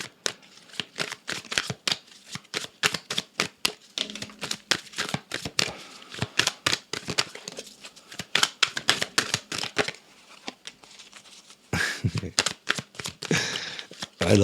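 Tarot cards being shuffled and drawn, rapid repeated riffling and snapping card sounds close up, with bursts of handling and a brief voice.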